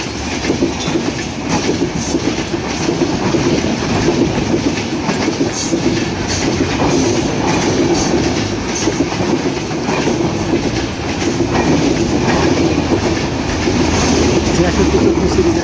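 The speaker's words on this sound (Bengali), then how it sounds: "সিরিজের আমেরিকান লোকোমোটিভ নিয়ে বীর মুক্তিযোদ্ধা শহীদ সিরাজুল ইসলাম রেলওয়ে স্টেশন থেকে ছেড়ে আসা 758 down Drutojan express Jamalganj railway gate দিয়ে ছেড়ে যাচ্ছে" Dhaka-bound 758 Down Drutojan Express hauled by an American-series locomotive rolls through the Jamalganj railway gate, a steady loud rumble of wagons with rhythmic clickety-clack over the rails, continuous throughout.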